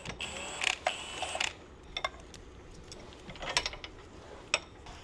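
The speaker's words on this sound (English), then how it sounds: "Put the 17 on there, and then hold the back side with the wrench." A wrench turning 17 and 19 mm strut bolts gives quiet, close ratcheting clicks and metallic taps in short bursts with pauses between, over a faint background hum.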